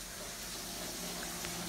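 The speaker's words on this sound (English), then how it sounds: "Got that sink going in the background." Kitchen sink tap running in the background, a faint, steady hiss of flowing water with no breaks, distant and low in level.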